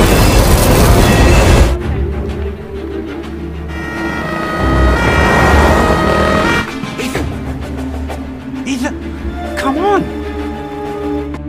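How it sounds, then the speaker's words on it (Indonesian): A train from a box-office action film rushes past in a loud, rumbling roar with mechanical clatter and screeching tones, fading as the scene continues while a narrator speaks over it. "Tiba-tiba saja kereta telah meluncur di hadapan Ethan."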